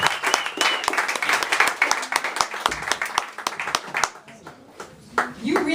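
An audience at a poetry reading claps for a poet, with dense, lively applause that thins toward the end as a voice starts to speak.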